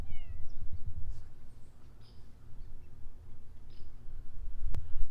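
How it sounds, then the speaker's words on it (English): A stray cat in a yard gives a couple of short, fairly faint meows near the start, followed by quiet outdoor background. "I hear my kitty friend."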